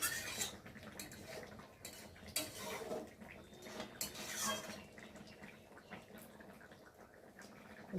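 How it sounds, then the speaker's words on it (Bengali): Potatoes in a fish curry are stirred in a pot, with soft spoon scrapes and light metallic clinks at an irregular pace, quiet and close. "চলো এবার একটু নেড়ে দেবো আলুগুলো"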